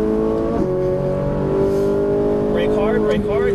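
A Ferrari 458 Italia races around a Las Vegas track, its engine droning steadily and loud with sharp pitch changes through gear shifts, under an instructor's voice giving driving commands.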